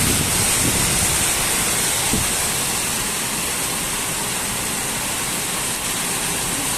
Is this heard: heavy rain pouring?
yes